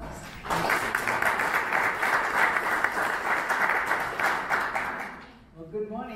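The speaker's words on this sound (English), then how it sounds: "So let's give them a round of applause." Audience applauding presenters at an annual employment law update seminar, sustained dense clapping from a sizeable crowd for about five seconds, then fading out as a voice begins.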